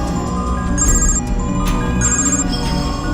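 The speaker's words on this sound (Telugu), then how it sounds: "ఆడి ఫోన్కి డిఎస్పీ ఫోన్ చేస్తున్నాడన్నా" A telephone rings with an incoming call during a Telugu film scene, sounding as repeated bright electronic trills that come in short bursts over a steady, busy background.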